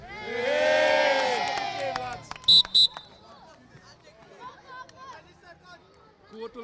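Spectators at a year 5 and year 6 youth football tournament final in Bolton let out a loud, rising cheer for about two seconds. Two sharp bursts follow, then a quieter murmur of nearby voices and movement.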